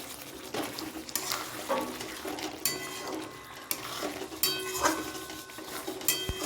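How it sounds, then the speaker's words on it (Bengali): A spoon stirs fried cauliflower pieces through thick korma gravy in a pot, with soft scraping and clinking strokes repeating at an uneven pace, fairly quiet and close. "এবার ভালো করে নেড়ে চেড়ে নিতে হবে।"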